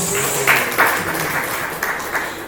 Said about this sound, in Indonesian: Tepuk tangan lagi dong Bapak Ibu biar lebih semangat